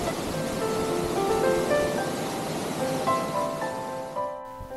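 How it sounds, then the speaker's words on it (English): Lucia Falls, a roughly 25-foot waterfall in southwestern Washington, gives a continuous rushing roar, with sustained melodic tones layered over the water before the sound cuts off abruptly at the end. "Lucia Falls stands at around 25 feet, a scenic waterfall located in the southwestern part of the Washington state"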